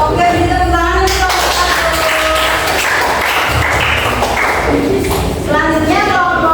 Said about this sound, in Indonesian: Oke, beri tepuk tangan untuk